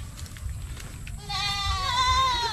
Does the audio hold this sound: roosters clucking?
no